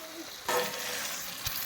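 Ginger, cumin and garlic sizzle in a hot pan, with a brief burst of frying as the ingredients hit the oil, then a steady crackle and a short stirring scrape.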